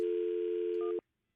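A telephone dial tone holds steady and close for about a second while a call is placed, then cuts off abruptly into silence.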